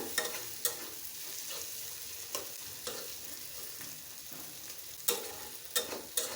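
Beef tripe (bot bhaji) being fried and stirred in a pan, with a soft continuous sizzle broken by several sharp scraping clatters of the spatula; quiet and close, no talk.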